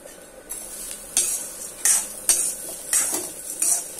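Ingredients dry-roasting in a pan a little at a time, with soft sizzling and several scraping stirs of a spoon against the metal at an uneven rhythm.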